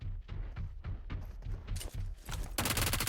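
Battle royale video game gunfire: rapid, rhythmic bursts of shots in quick succession, ending in a dense, loud volley, with no talking.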